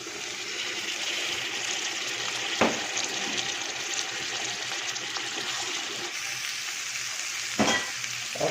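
Green chillies and tomatoes sizzle in hot oil for an aloo matar pulao, a steady close frying hiss broken by a couple of sharp stirring clatters, with no one talking.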